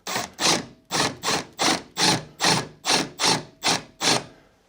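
A cordless drill runs in reverse to back a screw out of a spacer block on a window jamb, giving about ten evenly spaced, loud ratcheting bursts close up with no talking.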